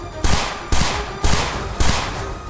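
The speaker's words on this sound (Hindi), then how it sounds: "वहां उन्होंने पहले गोलियां बरसाई" Hezbollah fighters fire guns at a deserted spot: four loud, sharp bursts of gunfire at roughly even intervals, each cracking out and then ringing away.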